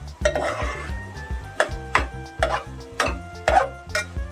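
Coconut rice (narali bhat) being stirred in a pot, a spoon scraping and knocking against the metal in a steady rhythm of roughly six strokes with faint clinks, close and fairly loud, with no voices.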